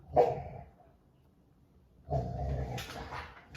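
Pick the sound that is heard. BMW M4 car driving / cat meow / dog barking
dog barking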